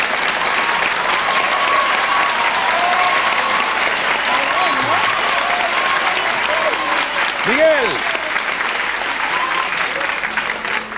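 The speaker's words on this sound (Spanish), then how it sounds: "Y mientras tanto nosotros, pues, aplaudimos" A television studio audience applauds steadily for about eleven seconds, a dense sustained wash of clapping with a brief whistle-like tone near the end and a faint voice underneath.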